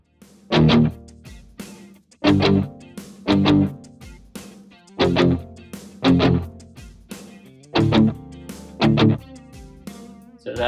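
Palm-muted distorted electric guitar chugs through a Headrush MX5 effects unit, playing short punchy rhythmic stabs about once a second with ringing gaps between, heard alone.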